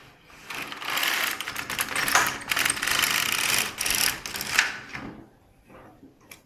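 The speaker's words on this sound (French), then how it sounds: "Je mets un fil et je tricote juste un rang." LK150 knitting machine carriage sliding across the needle bed to knit a single row, a steady mechanical whirring and clattering rush lasting a few seconds before fading.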